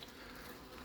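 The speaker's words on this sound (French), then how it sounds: "Là il y a un frelon dans la bouteille avec une abeille." A hornet buzzes steadily and faintly inside a plastic bottle trap, a low continuous drone with no pauses.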